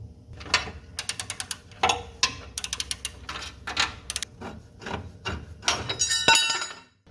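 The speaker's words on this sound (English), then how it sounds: "just kind of feel for where it's at and get the wrench put on there" A ratcheting wrench works a nut on the steering of a John Deere D Series mower, with quick clicking ratchet strokes and metallic clinks repeating close up in short bursts.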